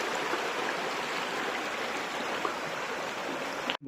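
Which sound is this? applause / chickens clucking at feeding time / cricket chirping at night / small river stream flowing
small river stream flowing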